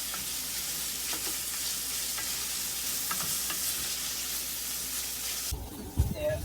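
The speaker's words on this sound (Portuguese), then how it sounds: "Agora a gente deixa pegar uma cor, dar uma selada na carne" Meat sears in a hot paella pan with a steady, dense sizzle and crackle, interrupted near the end by a few clunks of stirring.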